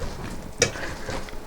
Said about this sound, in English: And we just mash it.